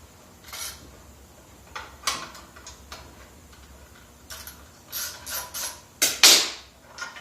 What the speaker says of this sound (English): a little quarter drive socket